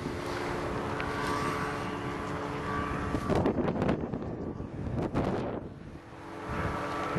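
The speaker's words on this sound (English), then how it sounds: "These guys have been coming in for a landing for a half hour now." A light aircraft drones overhead while coming in to land at a Memorial Day fly-in at Quincey Wash, steady at first and then surging as it passes, with gusts of wind buffeting the microphone.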